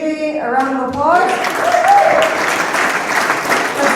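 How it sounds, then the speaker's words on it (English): A crowd at an Independence Party political speaking event in Redcliff breaks into loud, sustained applause; a brief tonal voice or sound opens it before the dense clapping swells and holds to the end. "Let's give Monica, Maria, Louis, and JJ a round of applause."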